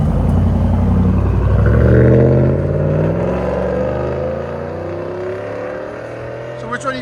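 A 2010 pickup truck engine revs hard through its exhaust, a loud throaty roar that climbs and then settles into a deep idling rumble, with a voice talking over it.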